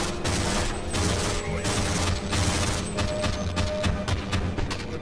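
Rapid gunfire from soldiers in the video game Half-Life crackles in dense, loud bursts that overlap and continue without pause, with no clear speech.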